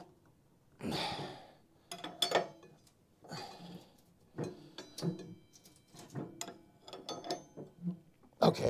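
Bolt on a snow blower being tightened down with hand tools, giving a run of separate metallic clicks, ratcheting and clanks in short irregular bursts, close and fairly loud, with no talk.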